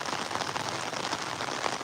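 Heavy rain pours steadily over standing paddy fields, a dense, continuous hiss of drops close by with no letup and no voices.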